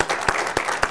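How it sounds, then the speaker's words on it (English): Audience applause for the panelists at an education panel event, a steady wash of many hands with a few louder, sharper claps standing out at regular intervals, close and without talk. "Could you join me in giving our panelists a round of applause,"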